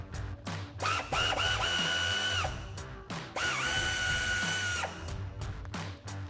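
Power drill spinning out bolts from a 2019-2024 RAM 1500 front bumper, two loud whirring bursts that rise and hold, each followed by ratcheting clatter, close up.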